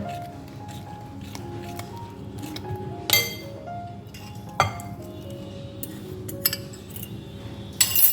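Oats, water and beaten egg are stirred together in a bowl for an oats omelette, with a spoon clinking and tapping against the bowl's sides at irregular intervals over soft wet mixing sounds.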